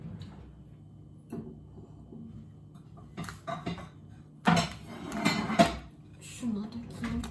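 Plates and dishes clink and clatter in a kitchen as biscuits are set onto a plate, with sparse knocks early, then a louder burst of handling while someone talks.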